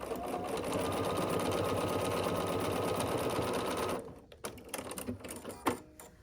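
A sewing machine stitches quilt squares together with a 1/4 inch seam, running in a fast steady whir for about four seconds, then stopping and giving way to light handling clicks and rustles.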